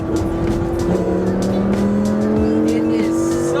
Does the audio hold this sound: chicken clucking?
no